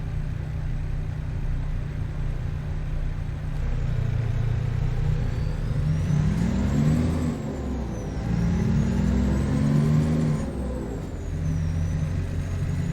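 Cummins ISX15 600 truck engine in American Truck Simulator pulls in a deep, steady rumble, rising and falling in pitch through gear changes.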